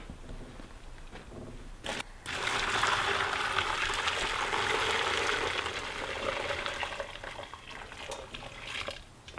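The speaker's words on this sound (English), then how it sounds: "you can pour boiling water over it" Boiling water just off the stove poured over shrimp pellets, a steady splashing pour that starts abruptly after a short pause and runs loud and continuous for about seven seconds before easing.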